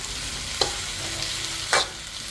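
Vegetarian pad see ew noodles with kale stir-fry in a hot pan, giving a steady loud sizzle throughout, broken by two brief scraping stirs, with no talking.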